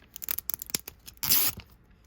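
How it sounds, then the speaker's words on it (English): A short ripping tear of a zipper strip on LOL Surprise toy packaging, preceded by a few light crinkles and taps, close and fairly loud, with no talking. "There's the zipper again."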